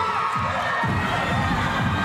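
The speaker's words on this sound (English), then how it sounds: "they'll be met by a big roar of the building crowd here at Leichhardt Oval" A building home crowd roars and cheers at Leichhardt Oval as New South Wales take the field for a women's under-19 State of Origin rugby league match, a loud continuous wash of voices with rhythmic chanting pulses beneath.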